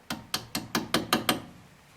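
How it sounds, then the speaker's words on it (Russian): A small hammer taps a cotter pin into a steering tie-rod nut on a VAZ car: seven crisp, close metallic taps in quick, even rhythm, then a brief fading ring. "Молоточком подобьем."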